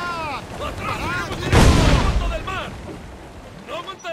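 A sailing ship fires its cannons in the naval battle of Assassin's Creed IV: Black Flag, a heavy booming blast rolling out under shouted crew commands.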